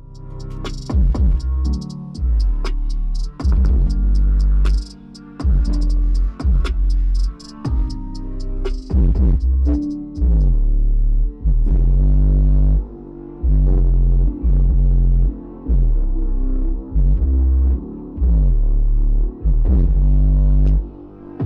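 A Deaf Bonce Machete ML12R subwoofer with a 2-inch voice coil, rated 500 watts RMS, plays a bass test track: loud, deep thumping beats repeating in a steady rhythm, with no talking.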